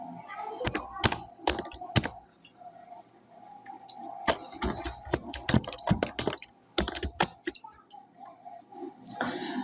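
Rapid bursts of typing on a computer keyboard while entering details into an online birth registration form, close and crisp, with short pauses between clusters of keystrokes.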